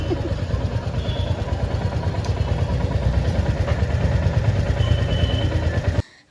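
A motorcycle engine runs steadily at a roadside emission-testing stop, a loud, continuous rumbling idle with rapid throbbing pulses that cuts off abruptly near the end.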